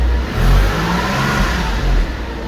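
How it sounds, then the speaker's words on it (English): A cheap Porsche engine, just repaired, running steadily near the microphone, with a low rumble and slight swells in level; no one talks over it. "It actually sounds healthy. Seems like it's idling right?"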